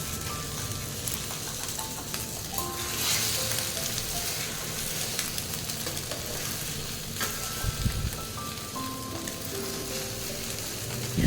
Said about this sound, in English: So here I am frying the eggs.